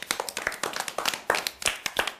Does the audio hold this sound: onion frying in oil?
no